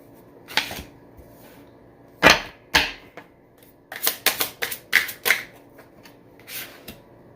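Tarot cards are riffled and bridged in a series of sharp, close bursts: one at the start, two more a moment later, then a quick run of several shuffles before a last softer one. No voices are heard.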